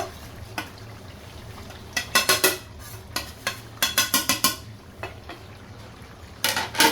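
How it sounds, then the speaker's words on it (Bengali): A utensil scrapes and knocks against a pot while spices are stirred into meat, with quick bursts of clatter in irregular clusters over a faint background sizzle. "এই মশলাটা দিয়েও আমি খুব ভালো করে নাড়াচাড়া করে একদম মাংসর সাথে যেন মিশে যায়"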